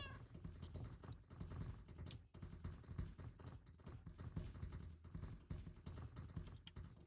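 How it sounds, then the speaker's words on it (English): Horses clip-clop around in the Minecraft game world, a busy, continuous layer of hoof-like steps with animal calls mixed in, fairly close and steady throughout. "They sound like horses and stuff."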